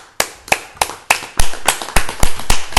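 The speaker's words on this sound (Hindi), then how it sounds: "सबको ताली बजाइए, ताली बजाइए, सबको स्वागत करें।" An audience at a religious teaching class claps hands in welcome, about ten sharp, loud, evenly spaced claps in a steady rhythm, with no voices over them.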